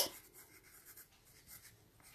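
A pen writes on paper during a second-grade mental addition lesson, the scratchy strokes soft and close, coming in short uneven bursts with no one speaking.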